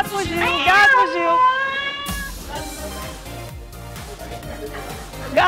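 A cat meows several times in a row, loud and close, with rising and falling cries, followed by a voice talking and a stretch of background noise.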